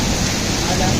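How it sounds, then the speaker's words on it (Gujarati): Heavy downpour during a storm in Rajkot, a dense, steady hiss of rain, loud and close, filling the whole brief moment. "ધોધમાર વરસાદ રાજકોટમાં"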